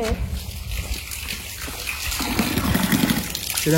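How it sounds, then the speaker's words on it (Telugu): Fresh water flows and splashes steadily across a farm field, a close, continuous gurgle with a faint voice underneath. "ఇక్కడ మంచినీళ్ళు వస్తుంటే"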